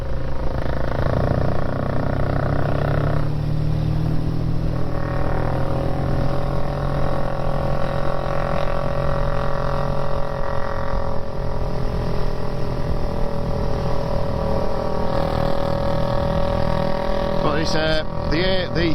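A BSA A10 650 classic motorcycle engine runs steadily for the whole stretch, a loud, close, continuous throbbing drone with a slight rise in revs midway and no speech over it.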